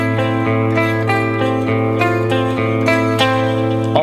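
A distorted electric guitar plays an alternate-picked riff, its sustained, thick tone marked by steady picked attacks roughly every half second. It plays loud and alone with no voices.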